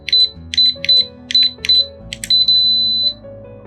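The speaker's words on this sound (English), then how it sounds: "We hear the beep, which means the new user password has been set." Smart Key Box K12 keypad gives a run of five short bright electronic beeps, then one long sustained confirmation tone, loud and close over faint low background music.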